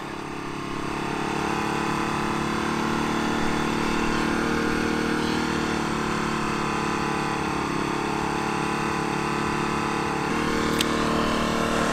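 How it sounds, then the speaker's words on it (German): A Denqbar DQ 1200 inverter generator drones steadily close by, dropping almost to idle, running at a low, even speed with a constant buzzing tone and no pauses. "man hört ganz deutlich, wie der Generator fast auf den Leerlauf zurückfällt"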